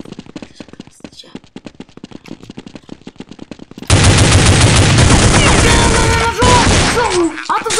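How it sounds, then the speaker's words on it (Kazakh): Counter-Strike 1.6 gunfire: a quick string of separate shots in the first half, then loud sustained automatic firing with heavy rattling bursts, while a player talks over the game. "Атып жатыр"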